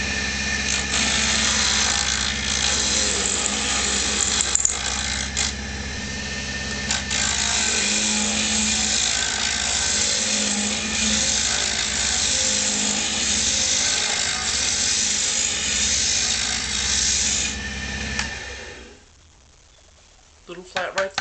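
A wood lathe spins a pipe stem blank while a gouge rounds it into a dowel, giving a loud, steady whirring and cutting roar that runs unbroken for about eighteen seconds before it suddenly stops.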